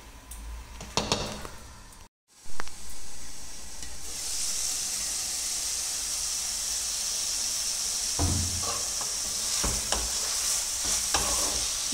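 Carrot and beetroot frying in a pan, a loud continuous hiss and sizzle after a brief break, with occasional stirring scrapes and knocks, close by.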